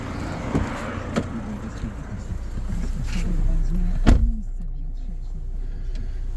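A 2014 Opel Mokka Cosmo with a 1.7 diesel engine and automatic gearbox idles with a steady low rumble. A single sharp knock lands midway, with faint voices nearby.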